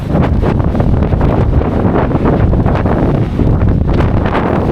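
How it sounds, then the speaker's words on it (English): Strong gusts of wind buffet the microphone on the deck of the ferry Saint Malo, a loud rough rumble that surges and eases without pause. "It's windy out here"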